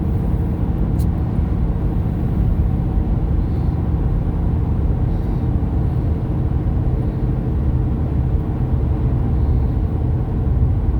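Steady low rumble of road noise inside a moving car, a constant broadband drone with no talking.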